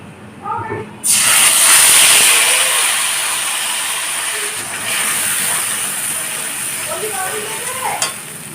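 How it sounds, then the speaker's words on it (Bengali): Ground spice paste drops into hot mustard oil in a kadai for ghugni and bursts into a loud sizzle after a brief quiet moment. The frying then settles into a strong, steady hiss, with a voice faintly heard early on. "কড়াইতে সর্ষের তেল দিয়ে দিয়েছি তেলটা গরম হয়ে গেছে এখন পেস্ট করে রাখা মশলাটাকে দিয়ে দেব"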